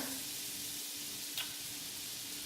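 Two pads of butter melt in a cast iron skillet already used for pork chops, giving a faint, steady sizzling hiss with one brief tick partway through.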